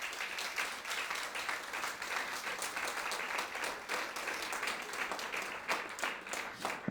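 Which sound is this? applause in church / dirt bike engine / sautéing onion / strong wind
applause in church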